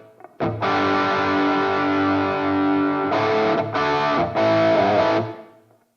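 A driven electric guitar through an amp modeler's Dad Rock preset with a reverb pedal set to a short time and low mix, playing sustained distorted chords alone, with a few restruck chords near the end.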